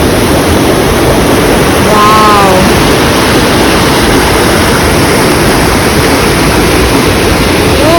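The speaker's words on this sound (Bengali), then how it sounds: "ঝর্ণায় এত আওয়াজ আসছিল আমি নিচে নেমে আসলাম" Steady, loud roar of a waterfall's rushing water below the road on the way to Manali, continuous broadband noise filling the whole stretch with no gaps.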